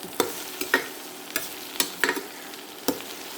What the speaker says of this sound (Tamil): இதை நல்லா ஒரு தடவை நல்லா கிண்டணும்